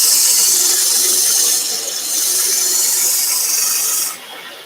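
A tool edge being sharpened to raise a burr, a loud, close, continuous high-pitched rasping hiss of steel on an abrasive that dips briefly midway, then drops off near the end.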